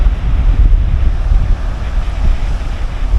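Loud, rushing water flows around a dry island in the middle of a river, heavily buffeted by wind noise on the microphone, a steady low roar with no talking.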